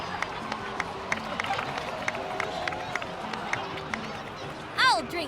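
Crowd applause in a video game cutscene, a steady wash of clapping under scattered voices and cheers, with a bright whooshing sound effect near the end.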